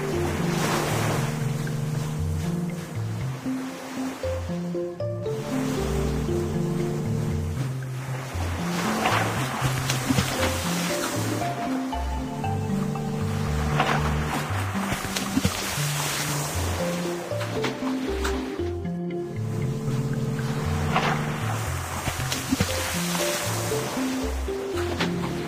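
A cartoon barge moves across ocean waves, with a continuous wash of surf and wind-like water noise, layered with bright synthetic musical tones rising and falling throughout.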